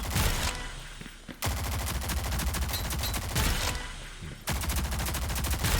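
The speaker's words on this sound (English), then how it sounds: "That's your hip fire." Hip-fire gunfire from a shooter video game, loud rapid automatic bursts in two long strings separated by brief pauses, close and dense with no talk.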